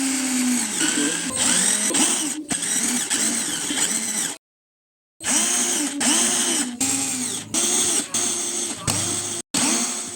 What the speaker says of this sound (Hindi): ये लाइनिंग भी मैं इस ड्रिल बिट से करूँगा।